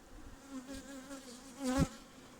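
Honey bees hum steadily in an opened beehive during a hive inspection, a close, faint buzz, with one bee swelling louder as it passes near.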